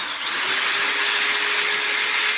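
Steady, loud whirring hum of a handmade fire bow and spindle being worked without pause. A high whining tone bends upward near the start, then holds level and alone throughout.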